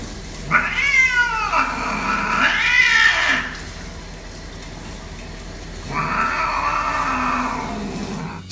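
A cat being bathed yowls loudly in long, drawn-out wails, two close together and then a third after a pause, with a faint background hiss.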